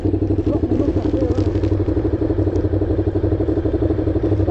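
A motorcycle engine fitted with exhaust cannons runs at a steady close idle, with a loud, even, throbbing rumble throughout.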